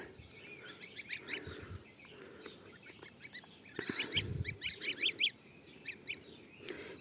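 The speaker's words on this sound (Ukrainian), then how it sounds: "Гусики мої." Geese honk and cackle nearby in short repeated calls, with higher peeping from goslings mixed in, grouped in bursts over a quiet background, outdoors in a yard.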